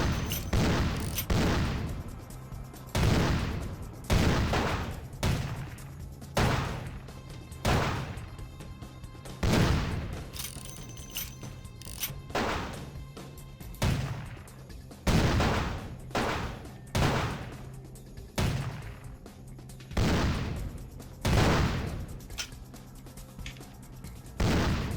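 Heavy, booming gunfire in the Vampire: The Masquerade - Bloodlines video game, loud single blasts repeating every second or two across the whole stretch, each with a decaying rumble between shots.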